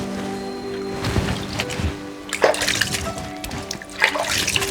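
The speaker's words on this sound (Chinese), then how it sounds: "先把手洗一下吧。" Hands splash and rub in a clear, cold mountain stream on a Guizhou cliff top, giving irregular close watery swishes and sloshes over a steady background of flowing water.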